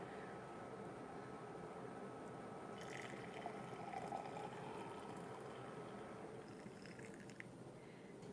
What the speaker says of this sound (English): I'm just going to go ahead and pour it into the container.